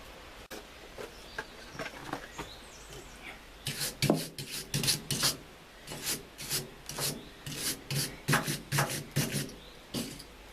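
Splines on the drive of a Danelander pasture topper are rubbed clean with close, rhythmic rasping strokes. The strokes are sparse at first, then become a steady back-and-forth run of about a dozen scrubbing passes, with no speech.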